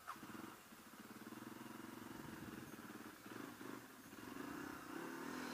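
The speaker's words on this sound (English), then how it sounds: "This thing does not like to start up when it is dark out and about 50 degrees without the choke" A motorcycle engine struggling to start on a dark night at about 50 degrees without the choke, heard faint and distant as a rough, uneven, labouring rumble.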